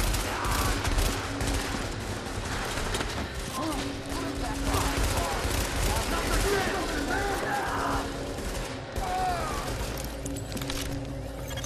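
Gunfire in The Division video game, rapid bursts and volleys of shots with mechanical clatter, dense and loud throughout under a voice talking over the action.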